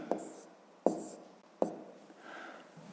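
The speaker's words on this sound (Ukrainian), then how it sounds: "Пишемо кут С." A pen or pencil writes by hand on paper during a fifth-grade math exercise: three sharp taps followed by soft scratching strokes, close and quiet.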